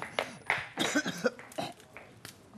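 A man gives a few short, harsh coughs up close in a small drinks shop, sharp bursts bunched within a couple of seconds with no speech.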